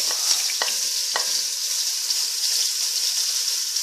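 Steady, bright sizzling of onions frying in a pan for chili, with a few soft clicks and stirring taps near the start.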